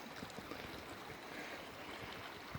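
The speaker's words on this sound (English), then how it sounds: "here's the creek" A Sierra creek near a culvert and sluice box runs steadily, a close, continuous burbling rush of flowing water with no voices.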